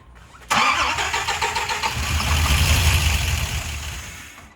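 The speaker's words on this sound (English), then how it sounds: "the engine attempted to start and it just died" A Dodge Viper engine with a suspected fuel problem cranks and catches with a sudden loud burst, then runs roughly for a few seconds before fading out as it dies, heard close up.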